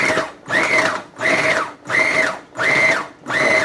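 A Braun food processor pulses scone dough with fruit in five or six loud, even motor bursts, each with a rising whine and a short gap between.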